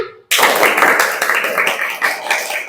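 A class of pupils claps together in a rhythm game, a dense burst of many hands that starts abruptly and carries on loud and steady with slight pulses, with no talking over it.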